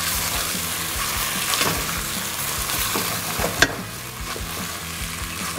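A Texan-style chilli mixture with paprika and tomato puree sizzles in a pan while a spoon stirs it, giving a constant frying hiss under repeated scraping and tapping strokes, one sharp knock near the end, no talking.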